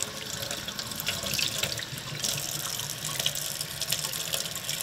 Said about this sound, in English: So I like to wash the fish off.